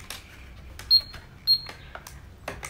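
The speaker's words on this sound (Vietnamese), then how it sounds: "đây là mẫu máy tính tiền siêu thị cao cấp nhé" A KINPOW toy supermarket cash register gives two short high electronic beeps as its buttons are pressed, amid light clicks and handling noise.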